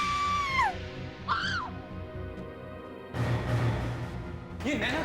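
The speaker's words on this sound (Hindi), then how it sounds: "तो फिर वो क्यों चिल्ला रही है?" A woman screams in a tense TV crime drama scene, giving several loud, sharp cries that rise and fall in pitch and are separated by short pauses, over a dense, dramatic background.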